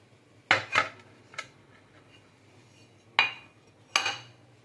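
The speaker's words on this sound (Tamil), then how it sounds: "இப்போது நம்மளுடைய ஓரியோ கேக்கை டிமோல்ட் பண்ணிக்கலாம்." An Oreo cake tin being knocked while demolding: five or six sharp metallic clanks in spaced pairs against a quiet background.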